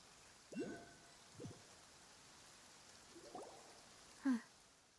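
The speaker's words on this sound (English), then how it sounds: "It's been raining non-stop for a few days now." Steady, faint rain falls in the video game Genshin Impact, a soft even hiss with a few brief, louder splashes or taps scattered through it.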